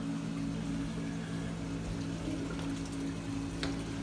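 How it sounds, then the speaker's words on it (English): Water from a large 390-gallon aquarium spills over a cutout into the overflow box and on toward a trickle filter, a quiet, steady trickling hum with a constant pump-like drone beneath. "the water overflows the background and goes into the overflow box"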